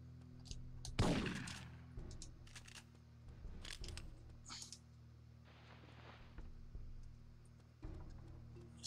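Gunfire in the video game Syphon Filter 3: a loud sharp shot near the start, then several quieter scattered bursts and clicks over a steady low game hum.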